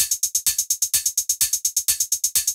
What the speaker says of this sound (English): just the main hi-hat.